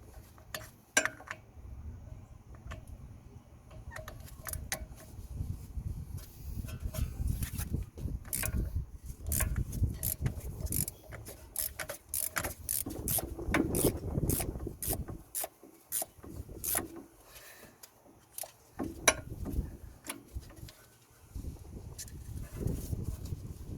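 A bottom hex bolt being undone on a Kia Ceed rear brake caliper, giving a run of close metallic clinks, ratchet clicks and scraping rubs in irregular bursts, with no talk.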